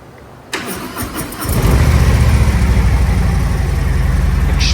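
A 2024 Harley-Davidson Street Bob on its quiet stock exhaust cranks over and catches, then settles into a steady, even idle that runs to the end, with no talking.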